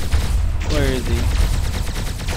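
Beam weapons firing from a turret view in the space combat game Starpoint Gemini 2, a dense, continuous crackling volley with a brief rising-falling warble, loud and sustained under low rumble.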